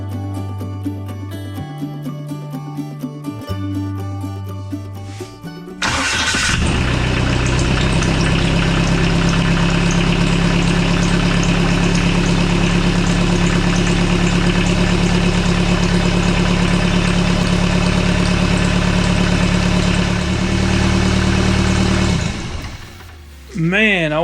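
A turbocharged Kubota diesel engine fitted in a Jeep TJ Wrangler cranks, fires and then runs with a loud, steady close-up drone, with a turbo whine above it, before cutting off near the end.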